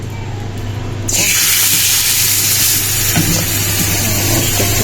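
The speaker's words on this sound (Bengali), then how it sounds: "তো মাছটা ভাজলেই আমার হয়ে যাবে" Fish frying in a pan in a home kitchen: after a quieter second, a loud sizzle surges up and settles into a steady, close crackling hiss.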